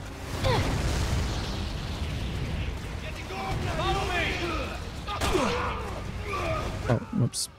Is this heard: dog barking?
no